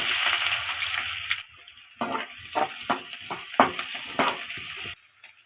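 Finely chopped onions sizzle and crackle in hot oil while a utensil stirs and scrapes the pan in short bursts, close and fairly loud.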